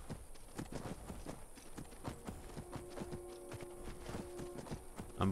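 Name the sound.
horse hooves clip-clopping in Skyrim video game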